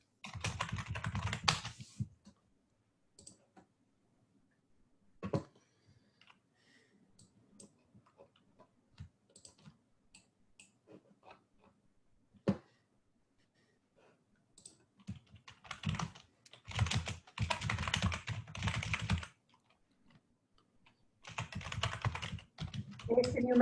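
Typing on a computer keyboard over an online meeting call, close clattering key bursts that come and go between quiet stretches and isolated clicks.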